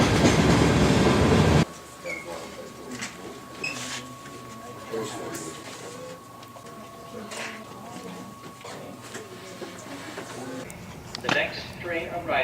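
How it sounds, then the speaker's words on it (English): A freight train rolls past near a station platform in Minneapolis in winter, a steady rumble with a sustained tone and scattered clanks, loud at first and then continuing under background voices. "That's just a freight train though."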